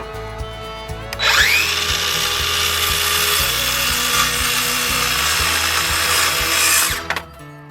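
A power saw spins up and its blade bites through a wooden support board for a chicken laying box, a loud sustained whining cut of several seconds that ends as the motor winds down.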